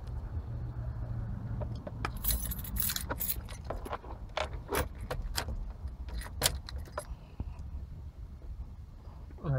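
Car keys for a 2005-2008 Toyota Corolla jangle and clink in bursts close by inside the car, with scraping and shuffling around them over a low steady rumble.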